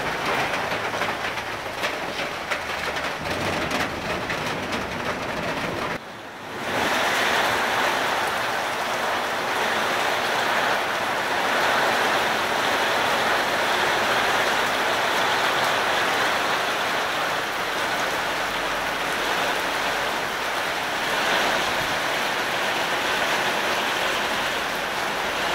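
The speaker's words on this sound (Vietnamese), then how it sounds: "Quá trời, bữa nay mưa gió rồi các bạn ơi." Heavy rain driven by wind pours down in a loud, constant roar that drops out briefly for a moment before resuming just as strongly, with no one talking.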